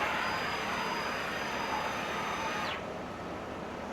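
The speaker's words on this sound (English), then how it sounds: "That thing is so fast. And that has ball screws instead of lead screws." An Altmill CNC router with ball screws traverses rapidly, a steady broadband mechanical whir with a whining tone that drops away near the end as the gantry stops, close and loud with no talk.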